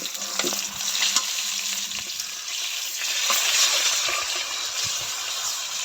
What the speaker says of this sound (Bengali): ভালো করে একটা পিঠ ভেজে নেবে, তারপর উল্টাই দেবো